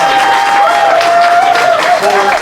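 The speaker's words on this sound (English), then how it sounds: "if we can have a round of applause once again" Audience applause at an uptown community talk, with a steady patter of clapping and crowd noise under an ongoing tonal hum, continuous and fairly loud throughout.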